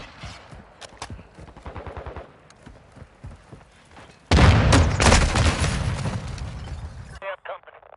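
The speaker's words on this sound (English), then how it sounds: "Tossing smoke grenade!" Smoke grenade hissing out in a shooter video game, a loud burst of dense spraying noise lasting about three seconds, with rapid gunfire before it and voices talking.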